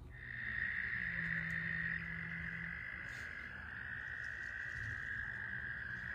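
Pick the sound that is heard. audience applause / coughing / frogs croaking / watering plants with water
frogs croaking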